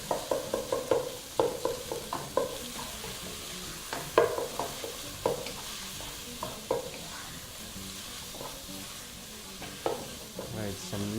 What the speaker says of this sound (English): So I'm just gonna use my spoon to break up the chunk.